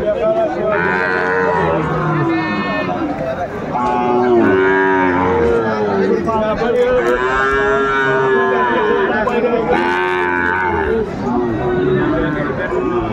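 Sahiwal bull calves lowing at a busy cattle market, with repeated loud moos close by amid constant talk and crowd chatter.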